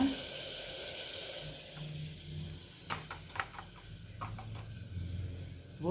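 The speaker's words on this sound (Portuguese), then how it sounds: "Pessoal, já está fervendo" Water at a rolling boil in a pot for a natural cough-remedy tea, giving a steady close hiss of steam with scattered bubbling pops and clicks; no one speaks.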